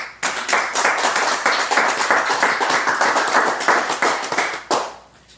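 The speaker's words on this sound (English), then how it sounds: "Let's give them a big round of applause." An audience at a community awards evening applauds, a dense, sustained round of hand clapping filling the room for about five seconds, tapering off with a final burst near the end.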